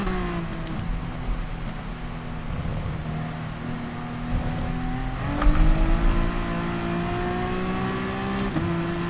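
Gr.3 race car engine in Gran Turismo Sport at Spa in the rain, a steady droning note that rises in pitch as it accelerates, with quick shift-like breaks and a brief bump midway, no talking.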